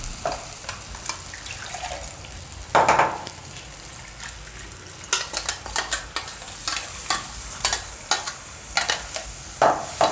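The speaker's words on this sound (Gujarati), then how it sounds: "હવે આપણે આમાં પાણી નાખીશું." Water goes into a pan of paneer and coconut curry, followed by repeated spoon stirring and scraping with a light sizzle, the bursts coming in quick uneven strokes at close range.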